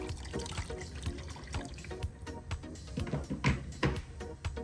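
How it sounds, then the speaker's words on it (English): Water being added to a pot of catfish for African peanut soup, a steady close pouring and splashing with small clatters, no talking. "Just gonna add them to this catfish. And add water."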